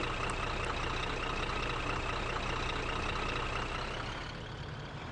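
Steady truck engine running in the Grand Truck Simulator video game, a constant low, droning rumble that holds evenly throughout and eases slightly toward the end, with no talking.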